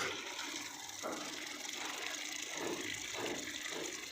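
Steady rushing water runs through a small model hydro dynamo set-up in a hybrid solar, wind and hydel power demonstration, a continuous close flowing wash with slight surges and no talk.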